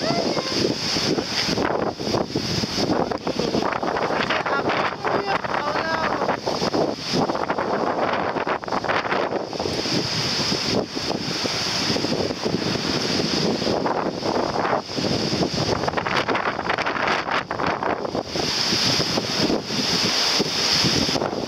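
Strong wind buffets the microphone in continuous roaring gusts, loud and close, with a faint high whine in the background and no clear talk.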